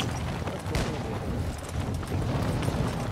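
Call of Duty gameplay with bursts of gunfire and booming impacts, a dense, cluttered run of shots at moderate loudness throughout.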